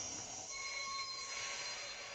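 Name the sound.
LEGO Disney train toy playing braking sound effect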